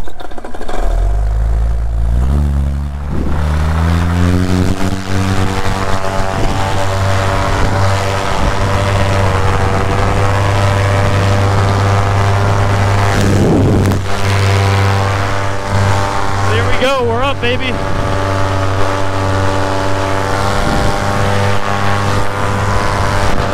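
A paramotor engine spools up from idle into a loud, steady high-revving drone for takeoff, holding strong and close throughout with a brief warble midway.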